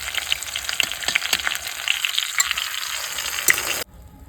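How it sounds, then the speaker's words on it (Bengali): Rui fish frying in hot oil in a wok: a close, steady crackling sizzle with scattered sharp pops that cuts off abruptly near the end. "তেল গরম হয়ে গেছে, এবার মাছগুলো ভেজে নেবো।"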